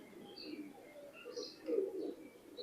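A female imported Oman Teddy pigeon gives soft, quiet coos and faint chirps over a low background murmur, the calls rising slightly toward the end.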